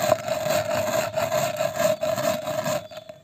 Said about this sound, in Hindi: अभी चावल को पीस देंगे।